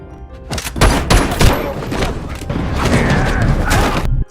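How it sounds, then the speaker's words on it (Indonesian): Gunfire in a gangster action film: a burst of loud shots and booming impacts in the first second and a half, then sustained dense crackling fire and mechanical clatter until the end. "Alhasil, lengan Gon terkena tembakan."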